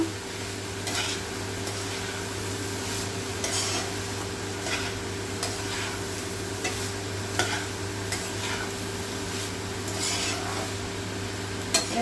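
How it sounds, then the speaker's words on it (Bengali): Spoon stirring banana stem and shrimp curry in a pan, with repeated scraping strokes over a steady sizzle and background hum. "এবার আমি আর একবার খুলে দেখছি আর একবার নেড়ে চেড়ে নেব"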